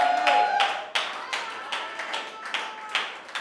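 A church congregation clapping in rhythm in acclaim for the Lord, steady close handclaps repeating about every half second, with voices and singing mixed underneath.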